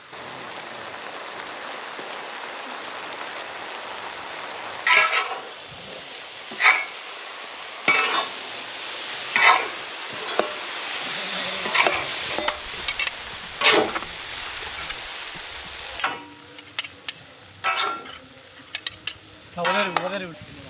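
Noodles are stir-fried with tomato sauce, soy sauce, salt, white pepper and chopped spring onion. A steady, loud sizzle runs under repeated scraping strokes of a utensil against the pan, and the tossing and clanks grow busier toward the end.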